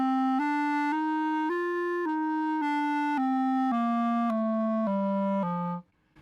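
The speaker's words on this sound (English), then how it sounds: "So typically, I play clarinet one note at a time." Clarinet playing single sustained notes one after another, each a separate step in a steady stepwise run, close and clear, with the last note cut off into silence.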